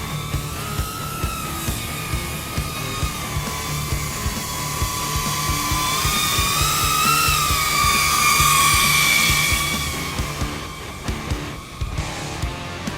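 A DJI Avata drone flies nearby with a high, buzzing propeller whine that rises and bends in pitch as it maneuvers, over a soft rhythmic low rumble.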